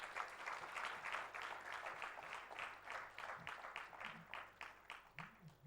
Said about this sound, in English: Let us take a moment and applaud them for their unwavering support.